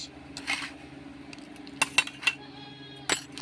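Spoon clinking against a glass while stirring ice and sugar into homemade jaljeera, a few sharp separate chinks scattered over a quiet kitchen background.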